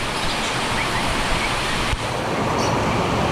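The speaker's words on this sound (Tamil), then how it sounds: "இப்போ ரொம்ப ஹெவியாக இருக்குது ரெயின்" Heavy night rain pours down over a bird aviary with green mesh, making a dense, continuous roar of water that stays loud and unbroken throughout.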